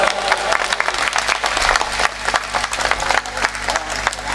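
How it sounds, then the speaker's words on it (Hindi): A comedy show audience claps in a dense, continuous burst of many hands, a lively patter lasting several seconds with no speech on top. "ताली बजाओ साहब।"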